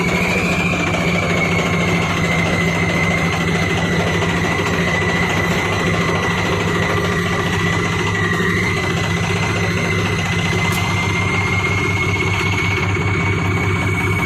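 A tractor engine idles steadily nearby, a constant low throbbing drone with a faint whine running unchanged throughout.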